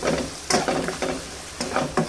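Food sizzles loudly in a hot pan while a utensil stirs and scrapes it in repeated strokes, close and steady, as fish and eggplant fry for kathirikai thokku.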